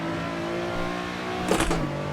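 Nissan 370Z Nismo pushed hard on the Nordschleife in Assetto Corsa, its engine holding a steady loud high-rev drone, broken by a quick shift or bump partway through.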